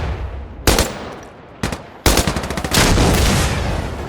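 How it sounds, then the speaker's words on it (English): Gunfire in the video game Insurgency: Sandstorm, with a couple of sharp single shots followed by a rapid burst of automatic fire, loud and close with no talk over it. "She's shooting the dead body."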